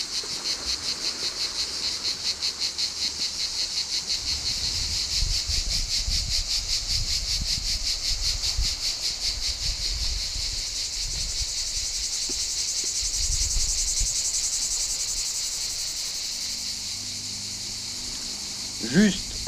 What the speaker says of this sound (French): Je me tais un peu pour vous permettre d'écouter le concert des cigales estivales.